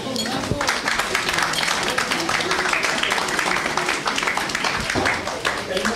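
An audience applauding at an evening event honoring Mister Suisse Romand 2013, a dense continuous patter of many hands clapping at moderate volume, with a speaking voice heard over the clapping.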